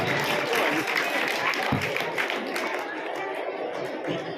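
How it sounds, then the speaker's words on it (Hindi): Audience at a girls' school felicitation ceremony claps steadily and loudly throughout, a dense continuous applause with crowd murmur mixed in. "जोरदार ताली मिलती है, जोरदार ताली।"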